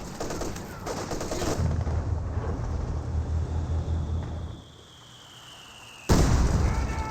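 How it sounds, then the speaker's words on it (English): An artillery barrage in the World War II strategy game Company of Heroes 2 lands as a rapid rumble of blasts and crackling impacts. A lull and a faint whistle follow, then a sharp new explosion bursts in near the end. "That's a regular barrage."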